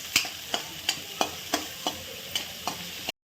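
Onion frying with salt in a pan, with steady, even stirring strokes scraping about three times a second over a constant sizzle, close and clear, cutting off abruptly at the end.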